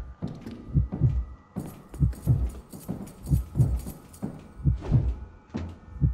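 A heartbeat sound effect from the mobile horror game White Day, on hard mode, thumps in steady, rapid double pulses, low and loud. Faint mechanical clicks and knocks sit between the beats.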